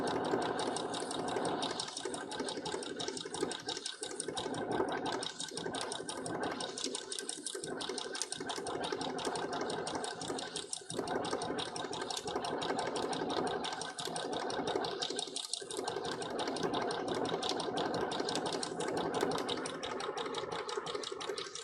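A sewing machine stitches a cosplay Jolly Roger flag, a fast, loud, rhythmic mechanical whirring running almost continuously, with a few short pauses and restarts.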